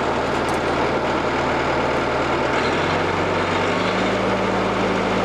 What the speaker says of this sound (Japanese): エンジンの音がうるさいわ。